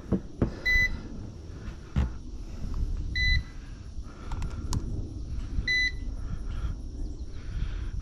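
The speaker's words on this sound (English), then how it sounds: "I'm guessing that beep is the first warning" Three short, high electronic beeps from a model EC135 helicopter's battery warning sound at even intervals over a low, steady rumble of wind and motor noise outdoors.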